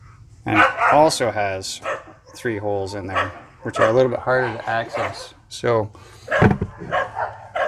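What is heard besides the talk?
dogs barking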